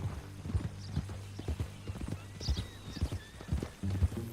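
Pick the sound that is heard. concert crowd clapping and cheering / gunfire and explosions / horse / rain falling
horse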